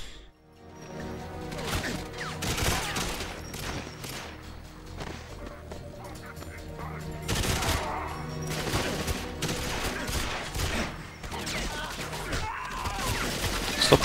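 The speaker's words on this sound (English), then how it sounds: "Stop shooting me" Repeated bursts of gunfire in the video game 007 GoldenEye Reloaded, loud, close shots and impacts rattling on almost continuously with little pause, with a voice speaking faintly underneath.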